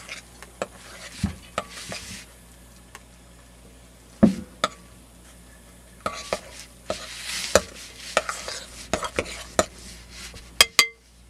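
No-yeast donut dough is stirred by hand in a bowl, giving soft wet squishing punctuated by sharp clinks and knocks of a utensil against the bowl, irregular and close, with brief quiet gaps between bursts.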